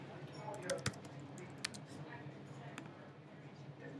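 Faint, sparse keystrokes on a computer keyboard while a case is being logged, a few separate clicks over a low steady hum in a quiet room.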